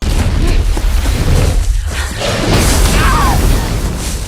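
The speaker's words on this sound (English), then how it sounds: "And a whole fireball. A whole shooting fireball." A fireball explosion from The Hunger Games film booms and roars in a broad, rumbling rush that surges twice, with people talking over it.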